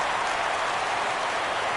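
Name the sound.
crowd cheering in baseball video game MLB The Show 17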